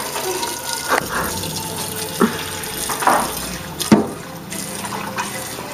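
Tap water runs steadily into a kitchen sink while cooking, a continuous close splashing flow with a few clunks and knocks over it, no talking.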